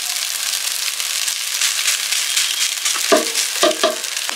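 Ghee heats in an uruli pan as rice is layered in for chicken biryani dum, with a steady, close sizzle throughout and a few firm scraping knocks of a spoon near the end.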